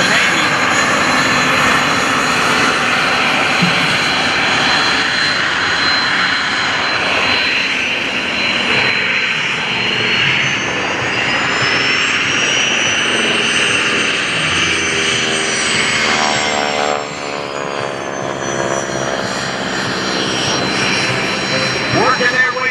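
A C-model Trojan warbird, a Navy carrier-type aircraft, flies past at the Blue Angels Homecoming Airshow, its engine drone loud and continuous with a rising and falling tone as it passes, while an announcer talks over it.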